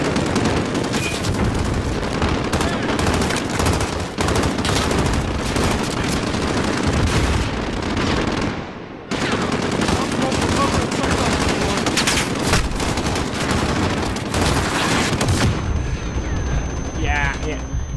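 Machine gun fire fills a Modern Warfare campaign battle, dense continuous bursts of automatic shots layered with explosions and mechanical clatter, loud and close, with a voice talking over the gunfire.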